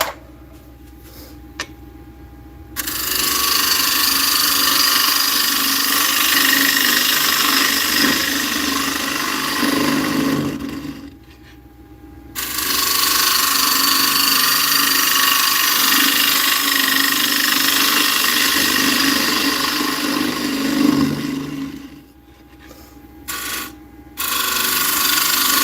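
A wood lathe spins while a flamed chestnut blank is turned. A loud, steady cutting roar runs in long stretches, broken by two brief quiet pauses, with a low motor hum underneath.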